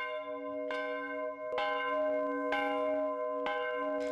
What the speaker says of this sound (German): das ist eine in Morgenröte gegossene gusseiserne Glocke